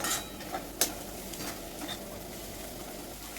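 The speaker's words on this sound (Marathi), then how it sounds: "आणि हे सगळं मी फास्ट गॅसवरच परतते." Chili powder and pav bhaji masala sautéing in a pan on a high flame, a quiet steady sizzle with occasional light scrapes and clinks of a spoon stirring against the pan.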